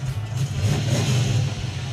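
Stock 5.9 V8 in a '71 Plymouth Duster with a new exhaust revs hard and steadily, a loud close rumble that holds for about two seconds without a break.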